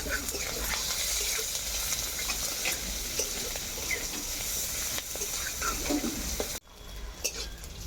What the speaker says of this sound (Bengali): পেঁয়াজ লঙ্কাটাকে লাল লাল করে ভেজে নিয়ে